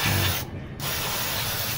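A spray bottle of cleaner is aimed at a car's alloy wheel, giving a steady, fairly quiet hiss that breaks off briefly in the middle before resuming.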